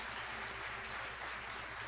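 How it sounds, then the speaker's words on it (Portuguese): A church congregation claps together in a dense, continuous wash of applause, steady and loud throughout with no break. "Quem entendeu essa palavra e crê, dê uma salva de palmas para Deus."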